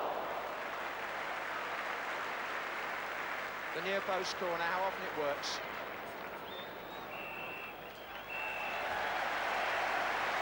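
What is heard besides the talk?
football crowd applause at half-time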